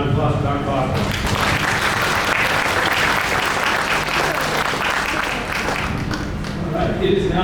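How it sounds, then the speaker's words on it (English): An awards-ceremony audience applauds a doctor, a dense, even wash of clapping that holds steady throughout, with no voices over it. "Another round of applause for Dr. Boswell."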